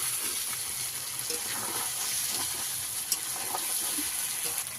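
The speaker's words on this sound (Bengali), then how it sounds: "মাছটা আমি এইভাবে কষিয়ে নিয়েছি" Tangra fish stir-fried in a pan, a close and steady sizzle with soft scraping stirs and one sharp clack partway through, no voices.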